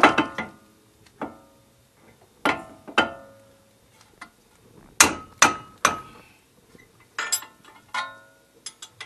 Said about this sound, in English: I'm just tapping it with my hammer right here onto the wrench.